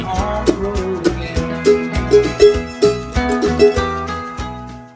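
A mandolin strums the chords of a song in the original key, bright rhythmic strokes with a steady bouncy pulse, played alone and up close.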